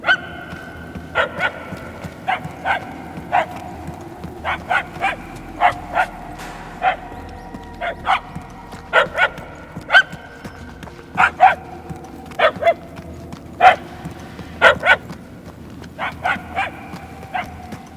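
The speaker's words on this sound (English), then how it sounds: "The barking is getting fainter." A dog in Marvel's Guardians of the Galaxy on PS5 barks repeatedly in irregular single and paired yips, sharp and somewhat distant, over a quiet low ambient hum with no speech.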